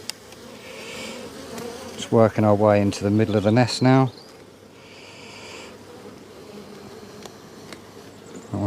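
Honey bees drone in a steady, close hum from an open hive during an inspection, while someone talks over the buzzing for a couple of seconds in the middle.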